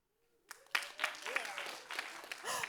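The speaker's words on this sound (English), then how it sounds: "give yourselves a round of applause for being here till the end" Audience applause in a theater during a scientific conference session on exoplanets and astrobiology, rising quickly into scattered clapping that builds and holds, with a voice speaking over the start.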